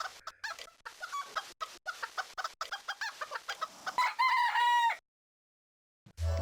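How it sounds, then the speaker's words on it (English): Rooster crowing and clucking sounds from the Game Boy Advance game Bit Generations Soundvoyager come in rapid, choppy bursts, ending in a sustained crow before a pause and a low thump. "You have 1 minute to catch all of the roosters."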